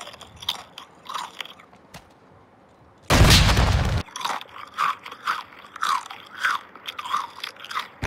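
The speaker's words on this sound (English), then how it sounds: "does it take that long to bite a fucking potato chip?" Potato chips being bitten and chewed close to a headset mic, a string of wet, crackly crunches in an uneven rhythm, broken by one loud harsh burst of distortion partway through.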